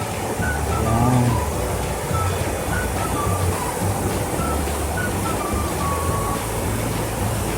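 Manga Falls waterfall roaring as a steady, loud broadband rush of falling water, continuous throughout with faint chirps of birds above it.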